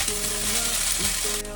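Thai basil fried rice is stir-fried in a pan with a steady close sizzle and the scrape and clatter of stirring. A faint tonal hum runs underneath, and no one speaks.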